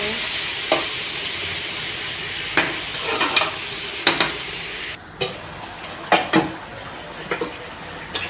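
Masala with cumin powder being sautéed in a pan: a bright continuous sizzle with sharp periodic scrapes and knocks of a spatula against the pan, close and loud.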